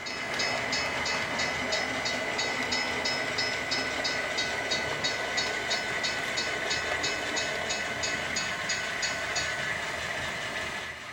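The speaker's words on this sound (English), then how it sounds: "this is a push-pull operation, so they push the cars all the way back to Everett" An HO-scale model train rolls past steadily in push-pull operation, with a continuous rumble and rhythmic clicking of wheels over rail joints, fairly close and loud throughout.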